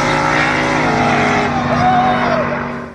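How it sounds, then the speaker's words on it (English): A four-wheel drive GMC drag truck built from mixed parts and making 1,800 horsepower, its engine revving close and loud with a rising, throaty tone, then cutting off at the end. "Eric also has a four-wheel drive GMC drag truck that he also Frankensteined from various parts"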